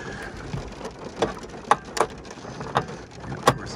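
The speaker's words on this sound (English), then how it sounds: "And of course, it's raining now." Rain falls outdoors during a Honda Civic Type R FL5 damper job, a steady hiss with several sharp drips or taps standing out, close and moderately loud, with no talking.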